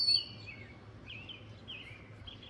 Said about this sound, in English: There's a loud bird.